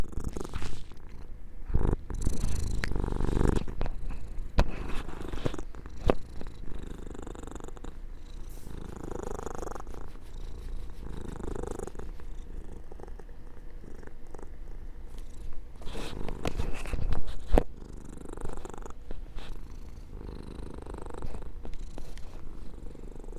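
A pet cat purring steadily while being petted, a close, continuous low rumble broken by occasional soft rustles and handling noises.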